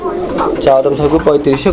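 Pigeons coo in a loud, close run of rolling calls, mixed with nearby talk.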